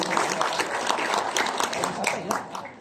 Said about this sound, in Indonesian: boleh tepuk tangan untuk Prof. Widodo.